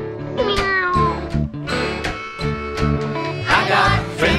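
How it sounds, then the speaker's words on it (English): A cat from California meows a greeting, several drawn-out, loud, close meows following one another over a steady musical backing. "like Dotty Kitty from California, and this is how she says hello"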